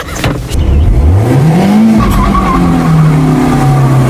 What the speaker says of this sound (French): Prête à faire des burns?